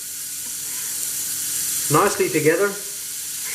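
Bacon, onions and a garlic clove fry in a pan with a constant hiss of sizzling, while a voice briefly speaks midway over it.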